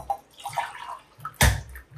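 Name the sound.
coconut milk being poured by the glass for biryani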